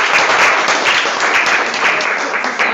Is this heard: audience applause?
yes